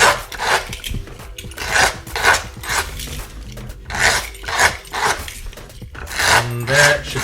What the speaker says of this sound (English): We're going to scrape it, because if you don't scrape it,